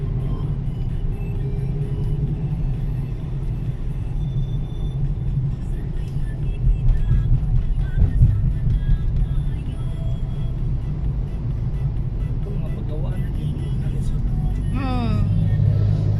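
Busy road traffic near the Mactan Shrine, a steady rumble of cars and other vehicles passing nearby, heard under continuous talking.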